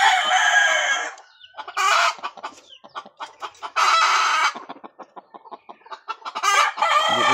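Backyard red junglefowl and gamecock roosters kept for fighting crow loudly and cluck in between, with several long crows and bursts of rapid clucking close by.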